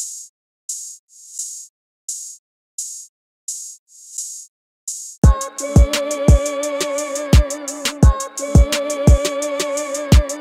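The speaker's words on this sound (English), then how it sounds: "And we're going to go into this new sample and hit reverse." A reversed, cloned melodic sample for a trap beat swells in short backward bursts on its own, then the full beat with drums and the forward loop crashes in halfway through.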